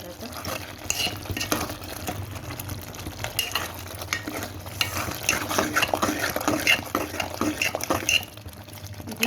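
A spoon stirs chili powder into a bottle gourd and moong dal curry cooking in a pan with dried and green chillies, giving soft scraping and stirring sounds over a faint bubbling sizzle, moderately close.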